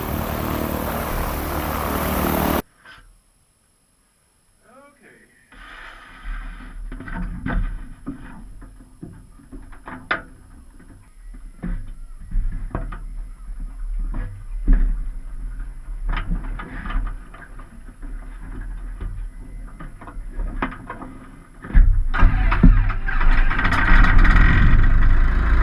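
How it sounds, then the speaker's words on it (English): A floatplane's propeller engine runs and warms up before flight, an uneven droning rumble with sputtering pulses that grows louder toward the end, preceded by a brief loud burst and a near-silent gap. "I just got it running, warming up right now."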